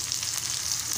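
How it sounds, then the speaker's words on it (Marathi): Green chillies crackle and sizzle in hot oil in a pan, a brief, close, steady frying hiss with no voices. "आता मी हिरव्या मिरच्या घालत आहे।"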